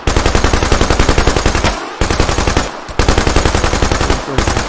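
Sustained automatic machine-gun bursts of suppressing fire in a first-person shooter, loud and close, rapid evenly spaced shots in three long strings separated by brief pauses.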